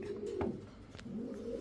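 Danish pigeons, a tall long-necked pair for sale at a pigeon market, cooing in low soft bursts with a faint background hum.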